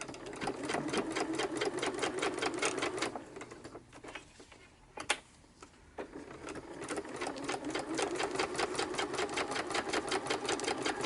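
A sewing machine stitching all the way around a tag on a junk-journal card, fast rhythmic needle chatter running steadily, dipping into a brief pause with a click midway before resuming, near and clear.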